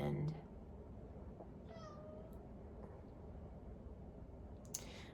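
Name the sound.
cat meowing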